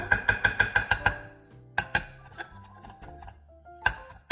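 Parsley chopped finely with a knife on a board: a quick run of sharp, evenly spaced taps, a pause, then a few more scattered chops.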